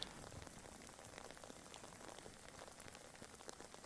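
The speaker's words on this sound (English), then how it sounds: "taking a walk when it's, raining." Steady rain falls outdoors during a walk across rural property, a dense, close patter of drops hissing and crackling on surfaces without pause, with no talking.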